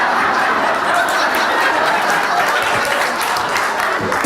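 An audience at a talk on trusting data breaks into steady, dense applause with a few chuckles mixed in, continuing evenly for several seconds without speech.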